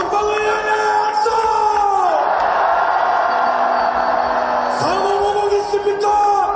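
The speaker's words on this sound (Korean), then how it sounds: "전방을 향해 함성!" A big rally crowd in Korea roars a long, loud cheer that swells and holds for a few seconds before trailing off, with an amplified speaker's voice at the start and end.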